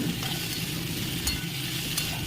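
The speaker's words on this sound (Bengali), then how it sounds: "এবার সব কিছু মিলিয়ে ভাজতে থাকবো।" Pointed gourd, potato, pumpkin, radish and Malabar spinach stems fry in a pan and are stirred, giving a steady close sizzle broken by a few sharp scrapes of the spatula.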